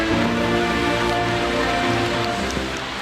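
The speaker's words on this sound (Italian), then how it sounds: "Qua sta piovendo tantissimo" Heavy rain pours down steadily during a downpour on a cycling trip in Hokkaido, Japan, a dense continuous hiss of drops drumming on surfaces close by, loud and unbroken with no voices.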